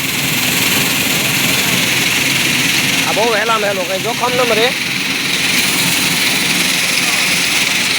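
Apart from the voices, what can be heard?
mini tractor engine running with an opener attached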